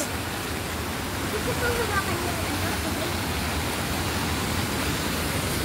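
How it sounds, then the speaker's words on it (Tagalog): At Bolinao Falls, a powerful waterfall current roars as a constant, dense, close rush of water, with voices faintly buried beneath it. "Oh, yan ang falls. Kaso, super lakas ng agos."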